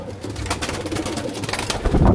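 Pigeons in a racing loft cooing steadily and close by, several birds overlapping with low throaty calls, with soft rustling and movement underneath and a louder burst of cooing toward the end.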